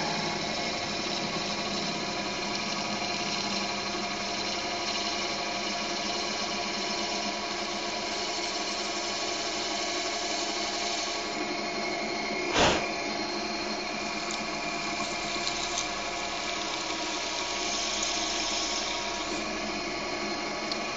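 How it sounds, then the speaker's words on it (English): A lathe runs steadily while machining a Delrin bushing for an alternator, giving a continuous whirring mechanical drone with one sharp brief knock midway, close and alone without speech. "machine it down even further to get the correct tolerance"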